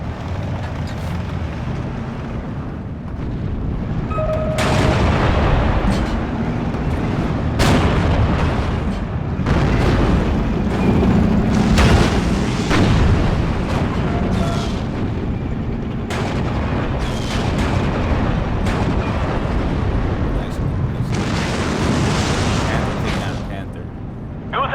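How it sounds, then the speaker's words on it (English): Mortar strikes land in a Steel Division 2 wartime strategy battle on the Slutsk map, a long run of repeated booming impacts and crackling gunfire at mid distance, with someone talking throughout. "He's about to hit this with some mortar strikes."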